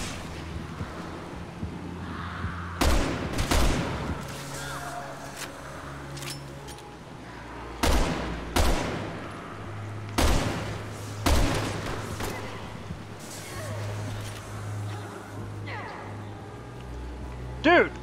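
Gunfire in Resident Evil 6: several sharp, loud shots at irregular intervals over a steady game background, with someone talking over the action.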